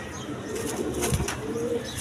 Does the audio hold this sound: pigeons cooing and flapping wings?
yes